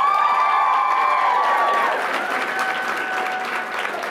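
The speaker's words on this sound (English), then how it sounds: "Applauding in her absence, Sydney Simmons." Awards-ceremony audience applause rolling steadily as a full crowd claps, with light cheering and a few raised voices mixed in.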